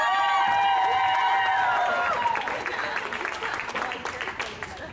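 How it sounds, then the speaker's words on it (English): A crowd at a Walk a Mile in Her Shoes sexual assault awareness event claps and cheers to vote for a contestant, loud applause with shouts that slowly thins out toward the end. "can I hear your applause now, please?"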